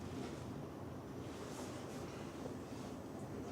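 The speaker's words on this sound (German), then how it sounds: "Fangen wir mal mit diesem phänomenalen Wasserfall an, der da runter rauscht." Waterfall plunging down a cliffside into the Geirangerfjord, a continuous broad rushing roar heard from a distance with wind buffeting the microphone and no voices.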